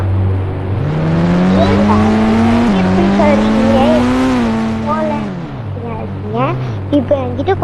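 A car engine in a racing video game hums and revs, its pitch rising and falling as it accelerates, with a voice talking over parts of it.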